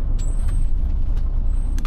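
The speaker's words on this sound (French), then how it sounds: "Oh, merde, ça freine." A truck's air brakes hiss in short high bursts over a steady low engine rumble from inside the cab, with the hiss rising a few times across the stretch.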